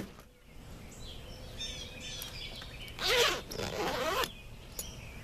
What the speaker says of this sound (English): in 3 years, the zippers still work the same.